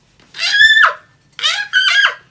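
A voice imitates a wicked witch howling in pain, two strained wailing cries with a short pause between them, close and loud with no other sound.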